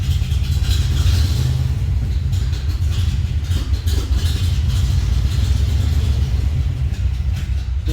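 A 1954 Ford F-100 engine, long unused, runs on choke with a steady, loud low rumble that holds evenly close by throughout.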